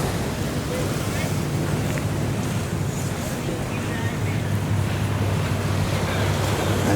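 Sea waves and wind at a Caribbean beach resort in Antigua, a constant loud wash of surf with gusty wind buffeting the microphone and no clear breaks throughout.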